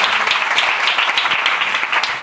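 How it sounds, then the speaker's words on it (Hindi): A church congregation at a Hindi sermon breaks into steady applause, many hands clapping in a dense, even patter that carries on with no speech over it. "ताली बजा दीजिए यीशु के नाम से"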